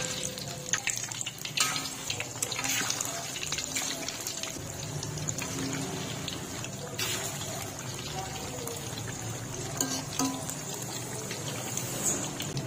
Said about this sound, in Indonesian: Kalau minyaknya udah panas bisa langsung kita goreng.